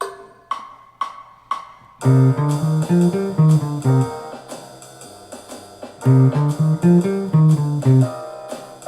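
A few sparse guitar notes ring out, then a clean guitar plays a flowing jazz line of descending 5-3-2-1 pattern notes over a warm low minor chord.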